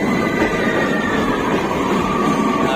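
Train 9259 rolls through a tunnel with a loud, constant rumble and a faint whine of wheels and carriages, steady throughout with no pauses.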